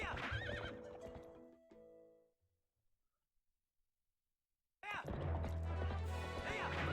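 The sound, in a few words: horse neighing and galloping, video game Zelda Twilight Princess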